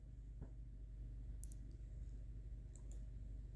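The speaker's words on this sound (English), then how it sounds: "we will click on the continue button here" A few crisp mouse clicks sound on a quiet computer setup, one near the start and two more spaced later, each short and faint over a low hum. No one speaks.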